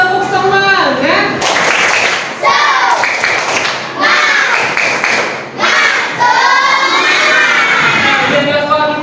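Classroom of schoolchildren doing loud rhythmic tepuk semangat clapping together with shouting and chanting, a dense, energetic burst of claps and voices close by that fills the whole stretch.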